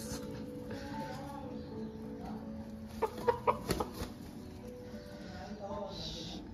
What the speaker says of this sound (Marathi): फायटर कोंबडा आहे, फायटर कोंबडा